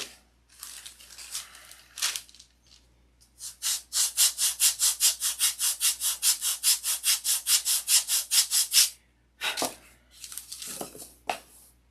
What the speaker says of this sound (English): We're gonna have to sand that a little bit.